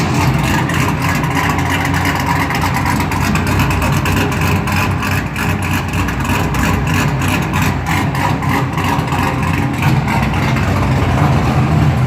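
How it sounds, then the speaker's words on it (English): Exhaust from an LS-swapped third-generation Camaro, a steady loud deep rumble that holds near idle throughout with slight fluctuations, close and continuous with no talking. "Go ahead and show you the exhaust now"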